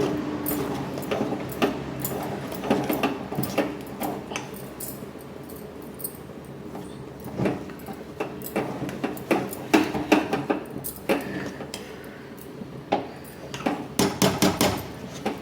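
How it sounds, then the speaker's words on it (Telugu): Cooked ragi flour dough is stirred vigorously in a hot pot just taken off the stove. A utensil knocks and scrapes against the pot in irregular clusters of sharp taps, moderately close. "స్టవ్ ఆపేసుకొని కిందకి దించుకొని ఇలా బాగా మిక్స్ చేసుకోండి"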